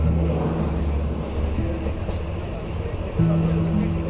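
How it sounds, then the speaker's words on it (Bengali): A Mahanagar Express passenger train runs along at a steady pace, with a continuous low rumble and rolling rail noise heard from inside the carriage and a few faint tonal hums. "ট্রেনও চলতে থাকলো তার আপন তালে।"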